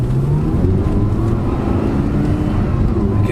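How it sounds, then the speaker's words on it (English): The V10 engine of an Audi R8 sharing its Lamborghini powerplant hums and whirs from inside the cabin, a steady low drone, loud and close, with no speech. "You can hear the V10 whirring up"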